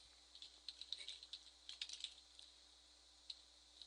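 Quiet, close clicking of keys on a computer keyboard, with short irregular bursts of keystrokes separated by brief pauses over a faint steady hum.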